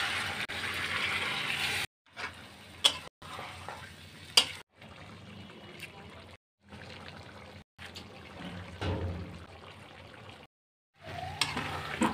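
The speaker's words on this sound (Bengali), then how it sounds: "মাংস কষানো হয়ে গেছে। এখন আমি অল্প একটু জল দিয়ে দেব।" A small splash of water is poured into a pan of braised meat for a Bengali dish, bringing a trickling pour and soft sizzle in several short, close bursts separated by abrupt silences.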